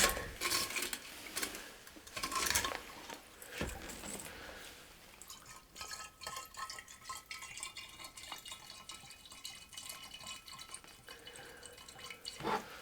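Antifreeze pours and drips into a metal fire extinguisher, with light clinks and splashes over steady background hiss; no one speaks.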